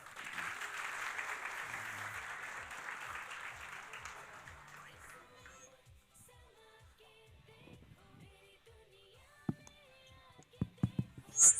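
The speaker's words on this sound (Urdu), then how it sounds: "بھرپور تالیوں میں I would like to invite E B M brand manager Uzair" Audience at a Karachi conference event applauds to welcome a brand manager onto the stage, a dense, steady wash of clapping for about five seconds that then fades into a quieter hall with scattered knocks and movement.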